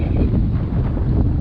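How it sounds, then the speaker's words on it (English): Strong wind buffets a microphone outdoors in a garden beside a newly planted apple tree, a loud, continuous low rumble that fills the whole clip with no talking. "Sorry about the wind."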